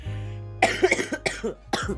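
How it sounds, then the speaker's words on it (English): A young woman coughs several times in a row, close and fairly loud, with short breathy bursts over a low steady background hum. "even if I laugh, I end up coughing"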